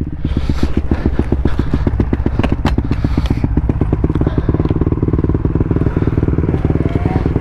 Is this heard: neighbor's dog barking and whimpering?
no